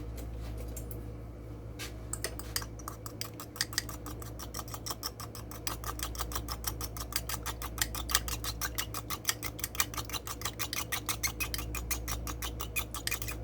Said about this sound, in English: And we need about a tablespoon of almond milk. Now we're going to whisk this together.